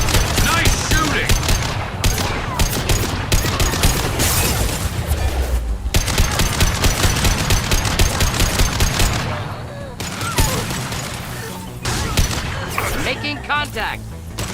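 Sustained automatic gunfire and rapid shots from a firefight in Mass Effect 2, Legendary Edition, loud and dense with bursts and booms, under occasional shouted combat dialogue.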